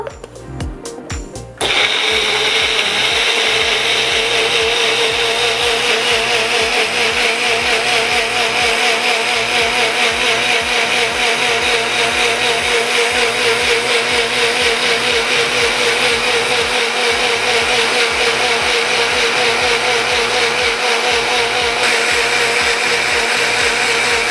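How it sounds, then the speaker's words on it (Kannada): A blender starts after a brief clatter and whirs steadily at high speed, loud and continuous, churning a liquid health-drink mixture with added water for the rest of the stretch. "ಈ ಮಿಕ್ಸ್ಚರ್ನ ಚೆನ್ನಾಗಿ ಬ್ಲೆಂಡ್ ಮಾಡ್ಕೋಬೇಕು"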